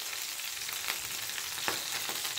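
Green chillies frying in a pan for an aubergine and tomato curry, a steady close sizzle with a few sharper crackles and pops, no voices.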